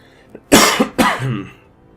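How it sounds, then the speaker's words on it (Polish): Two sharp, close coughs from a man who has just come in from the cold, each a harsh burst with a short throat-clearing tail between them. "I się kaszel pojawił"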